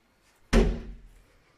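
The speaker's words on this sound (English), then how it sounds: "And this door will take us back into the hallway" A door in a house's hallway area gives a single solid thud with a short decaying rattle, heard close and alone in an otherwise quiet room.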